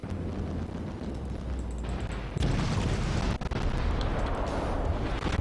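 Naval guns aboard an Atlanta cruiser fire in World of Warships, producing repeated booming salvos that thud over a continuous low rumble of battle noise.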